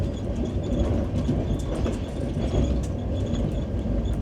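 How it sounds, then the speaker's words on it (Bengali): The Howrah–New Delhi Rajdhani Express rolls through Bardhaman station, heard from on board as a steady, dense rumble and rattle of the carriages with faint rhythmic clicks and no speech. "এবার বর্ধমান স্টেশনের 1 নম্বর প্ল্যাটফর্ম দিয়ে আমাদের ট্রেন যাবে।"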